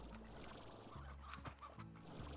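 Chickens in the Slime Rancher video game, a few short clucks and bursts of cackling over a low continuous in-game background hum, faint and without talk.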